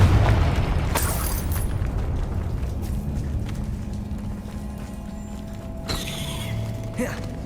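A Confringo blasting spell explodes in Hogwarts Legacy on PS5: a sudden booming burst, then a long rumbling roar and a second blast near the end, loud and close.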